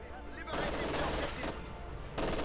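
MG42 machine gun fire in the Company of Heroes 2 strategy game comes as sustained, dense bursts of rapid gunfire, with brief pauses between the long strings of shots.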